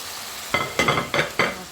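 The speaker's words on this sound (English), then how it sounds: "I'll fry it a bit." Cameroonian fried pepper sauce is stirred in a hot pan, four quick scraping strokes over a soft, continuous sizzle at close range, with no talking.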